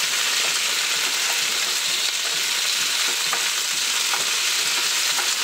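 Mustard oil fries in a wok over the heat, giving a steady, close, continuous sizzle broken by occasional scraping stirs, with no voices.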